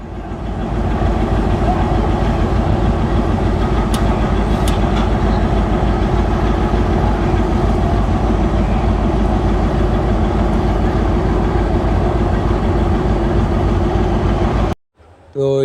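A Brahmaputra Express locomotive idles at a station with a steady, loud low rumble throughout, briefly cutting out near the end, while people talk nearby.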